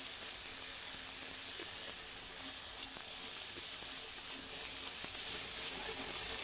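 Ginger garlic paste fries with onions in a pan, giving a soft, steady hiss with a few light stirring clicks. It stays fairly quiet and there is no speech.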